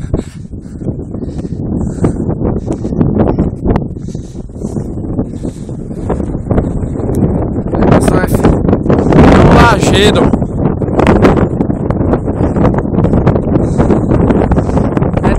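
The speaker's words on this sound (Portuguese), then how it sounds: "Ó, esse é o barulho do vento." Strong wind buffets the microphone on a steep hillside trail, a loud continuous roaring rush with gusts that rise mid-way, while someone talks under it.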